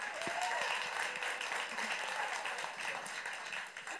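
Audience applause for a singer as she takes the stage, a steady dense wash of clapping that holds through the whole stretch, with crowd noise and a faint voice mixed in.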